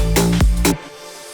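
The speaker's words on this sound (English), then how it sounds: "we have obviously those snares coming back in" Two punchy electronic snare hits return in a dance track drop built in FL Studio, loud and close over a sustained bass layer, with a brief tail fading into near silence.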